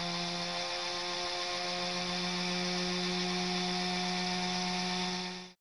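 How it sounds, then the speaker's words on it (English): A restored quarter-horsepower Western Electric hybrid motor generator (dynamotor) from about 1895 runs with a steady, loud electrical hum and high whine that hold constant, then cut off abruptly at the end. "This demonstrates the principles of a hybrid motor generator."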